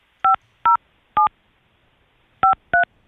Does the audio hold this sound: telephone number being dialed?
yes